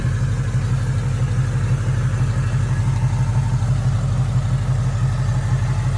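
A car engine of almost 500 horsepower runs steadily at a loud, close idle, with a deep pulsing low rumble and no voices over it.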